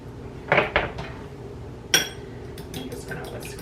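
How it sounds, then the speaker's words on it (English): An egg with salt and pepper being whisked in a bowl, with a few loud clinks of the utensil against the dish followed by lighter, quicker tapping. "I'm just gonna whisk this up"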